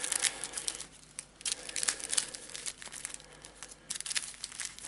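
A deck of Arkham Horror card-game cards shuffled by hand, quiet papery riffling and crinkling in uneven bursts, close by and with no talking.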